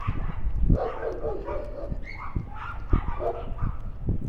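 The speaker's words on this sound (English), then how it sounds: "Got a lot of dogs going crazy over here." Several dogs bark and yip excitedly in a Brooklyn backyard behind a fence, with repeated sharp barks and whimpers over street ambience, fairly close but out of sight.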